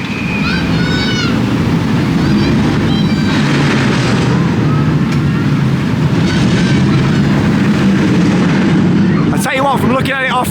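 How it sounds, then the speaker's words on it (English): A new sit-down roller coaster train built by Art Engineering of Germany rolls in with a steady, loud rumble and rattle over the track, with squeals and a few bangs near the end. "here it comes, the brand new train, sit-down train, built by Art Engineering of Germany"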